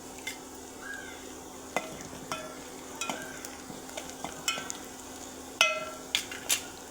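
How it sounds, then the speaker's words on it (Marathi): Coriander frying in hot oil in a pan: a soft, continuous sizzle runs throughout, punctuated by frequent light clicks and taps of a stirring spoon, close by and without speech. "तेलामध्ये थोडीशी कोथिंबीर पण टाकायची आहे"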